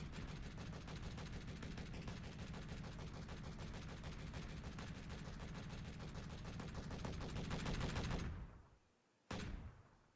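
Autocannons on a Space Engineers ship blast in a rapid, steady stream of loud shots for about eight seconds, then stop abruptly; one more brief burst follows after a short pause.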